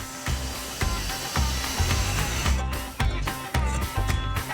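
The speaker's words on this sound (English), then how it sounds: "David and Harry have got the power tools out" Power tools run during a garden makeover beside a brook, giving a continuous loud grinding, buzzing drone broken by rhythmic scraping pulses and short dips as the cut changes.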